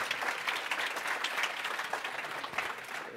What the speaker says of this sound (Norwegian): Stor applaus til de fem.